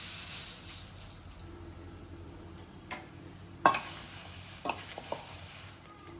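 Puffed rice for spicy masala murmura tumbles into a pan of oil with curry leaves and is stirred, giving a soft, low rustle broken by a few sharp scrapes and clatters midway; no one speaks.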